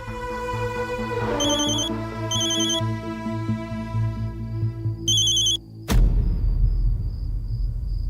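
A telephone rings indoors in a dramatic scene, giving repeated bright electronic trills in short bursts over a low rumbling music bed, then a sharp cut to a quieter, sustained tone.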